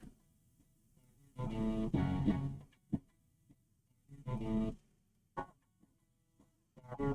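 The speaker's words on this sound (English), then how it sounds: "let's listen to that distortion characteristic" Distorted electric guitar through a Line 6 Helix amp profile plays in short bursts: several thick, buzzy chords ring out briefly with gaps of silence and single picked notes between them.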